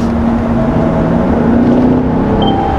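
A Mercedes-AMG S63 4Matic+ luxury sedan accelerates hard, its engine note a steady, loud drone with rising tonal pitch over continuous road and cabin rumble, no talking.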